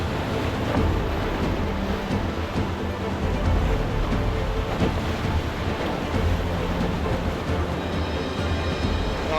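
Rushing water through a very technical stretch of river rapids, a dense, steady roar of churning water with wind noise, loud and unbroken throughout with no talking.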